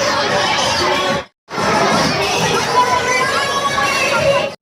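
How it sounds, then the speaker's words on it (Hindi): A dense crowd at a village fair chatters all around, with children shouting and busy babble, loud and continuous, briefly cut by a short gap of silence. "अब बढ़ रही है मेले में भीड़"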